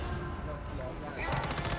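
A machine gun boss in the video game Once Human fires rapid automatic bursts, a dense rattling that sharpens in the second half over busy game sounds, fairly quiet overall.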